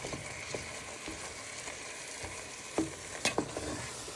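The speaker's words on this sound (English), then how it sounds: "So you just want to stir in them noodles into your tomatoes and prawns so they start to break down." A spoon stirs noodles through tomatoes and prawns in a pan with a soft sizzle, scraping now and then, and a few sharper knocks against the pan near the end.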